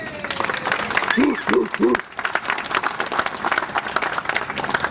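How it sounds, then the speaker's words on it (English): A rally crowd of Verizon workers applauds its retirees with loud, sustained clapping and cheering, while a voice calls out briefly partway through. "give yourselves a round of applause, please"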